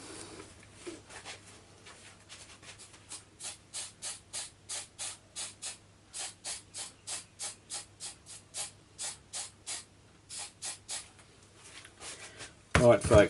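A spray can hisses in repeated short bursts while coating a model bush, about two dozen quick puffs in a steady rhythm, close and fairly loud, with a sharp clatter at the very end.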